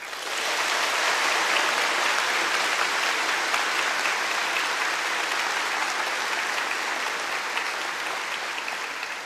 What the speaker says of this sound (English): Please, applause for all of them.